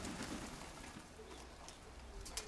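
Pigeons coo faintly in a home loft, a soft low murmuring running through the whole stretch with a few brief higher chirps near the end, while voices talk nearby about the birds.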